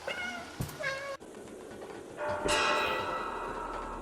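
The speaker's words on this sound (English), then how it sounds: "You can also meow in cutscenes," A cat meows a few times up close in the video game Stray, followed by a ringing bell-like tone that sustains over a steady background hum.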